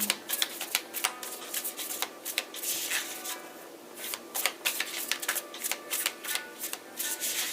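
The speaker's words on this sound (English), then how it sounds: "And do 3 shuffles." Tarot cards being shuffled by hand, a quick run of crisp riffling and sliding flicks that comes in close, dense bursts with short pauses, heard on its own without any talk.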